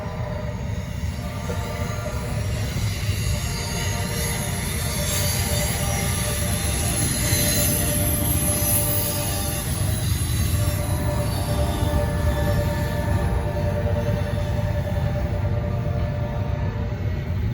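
A Norfolk Southern train on the Charlotte District rolls past at night with a continuous heavy rumble of rail cars and a thin wheel squeal riding above it, steady and fairly close throughout.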